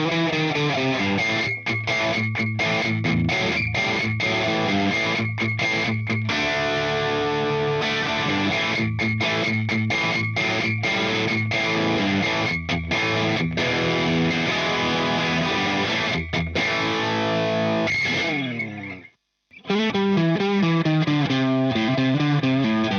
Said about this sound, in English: bridge one had a weird kind of resonance, high trebly kind of stuff